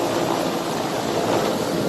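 A Ghana Air Force Mi-17 helicopter hovers above an independence day military display, giving a continuous broad rotor and engine roar that stays loud and steady throughout, with no voices.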